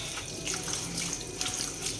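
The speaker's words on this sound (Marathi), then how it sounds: "आता आपण मेथीला 2 ते 3 पाण्याने स्वच्छ धुवून घेणार आहोत।" Fenugreek (methi) leaves are rinsed in a pot under running water, with a steady close splashing and trickling throughout and no talking.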